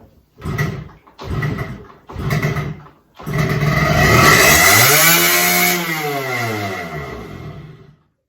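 A Suzuki RG50 Gamma motorcycle engine with its carburettor sleeve misfitted, leaving the throttle stuck wide open, sputters through three short bursts, then catches and screams at high revs, its pitch rising and falling in a long sustained wail before cutting off.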